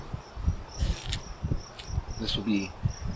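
Honeybees buzz over a hive frame full of capped brood, a close, steady droning hum with wings flitting in and out, alongside soft rustling movement.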